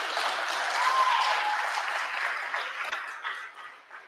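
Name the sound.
round of applause for Josh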